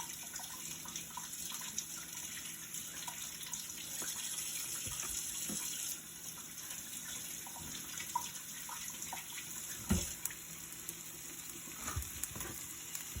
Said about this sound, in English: I get tomatoes that I have grown in the garden, and I wash them off really good.